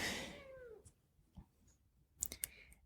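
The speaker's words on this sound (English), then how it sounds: "If you hear any more meows, they come from him" A cat gives a short, faint meow, followed by a few soft clicks and light tapping sounds in a quiet room.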